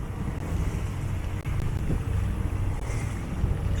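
A sailboat motors under engine into the wind, its low steady engine hum running throughout beneath gusty wind noise and water sounds, with no talking.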